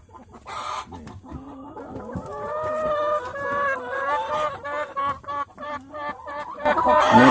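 Laying hens in a coop cluck and cackle continuously, a dense overlapping chorus of close, loud calls that builds toward the end.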